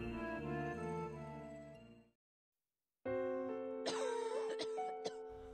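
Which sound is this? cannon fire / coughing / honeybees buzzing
coughing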